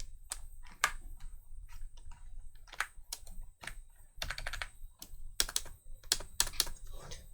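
Rapid bursts of keystrokes on a computer keyboard during a Microsoft Word 2007 data-entry session, irregular clusters of sharp clicks over a low steady hum, fairly close, with no speech.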